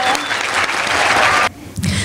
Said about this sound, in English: If we can give her another round of applause.